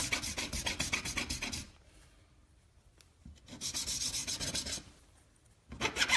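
A metal file rasps along the rough edges of a homemade fuel tank in close, steady rhythmic strokes, with two longer runs of filing separated by brief pauses.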